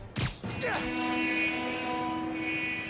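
A train on tracks in the Marvel's Spider-Man: Miles Morales video game, with a sharp impact at the start and then a sustained, tonal horn-like drone ringing steadily through the rest.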